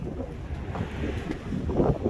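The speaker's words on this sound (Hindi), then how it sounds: "बहुत हवा चल रही है।" Strong wind blows outdoors on a sunny day, a continuous roaring buffet against the microphone with gusty swells and no pause.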